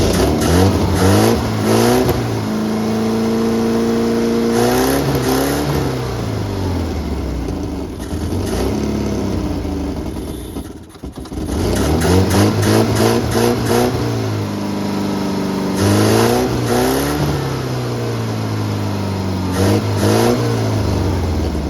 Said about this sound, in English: Fire it up and let this thing run for a second.